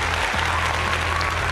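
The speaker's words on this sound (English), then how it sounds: "I can throw in some applause." Canned applause sound effect fired from the Farrago soundboard app during a live stream, a dense, steady burst of clapping that fills the short moment on its own with no voices over it.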